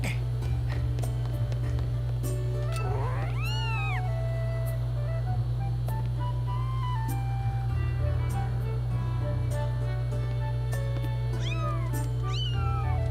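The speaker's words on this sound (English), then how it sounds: "They're like kitty lemurs, but they're kind of adorable." Cartoonish cat-like creature meows in The Legend of Zelda: Skyward Sword rise and fall a few times over a steady low droning game soundtrack, with small chirps and blips scattered throughout.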